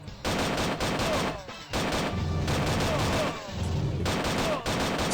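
Gunfire in the Flash game Gunster: dense, repeated bursts of shots in rapid volleys with short pauses between them, steady and fairly loud.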